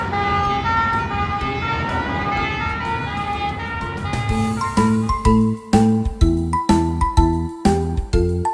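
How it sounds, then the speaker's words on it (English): Toy fire rescue ladder truck siren, a loud electronic tinkling wail that switches to a repeating pulsed, stepped toy siren pattern halfway through, with no talk. "Fire rescue ladder truck."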